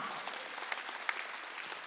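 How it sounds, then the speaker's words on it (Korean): A church congregation at a Wednesday worship service claps together in a steady, dense wash of applause, fairly soft and distant, with a couple of sharper claps standing out. "박수 치라 이기야."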